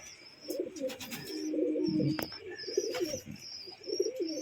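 Pet pigeons coo in soft, repeated throaty phrases close by, with a few sharper chirps mixed in, the calls rising and falling in short bursts.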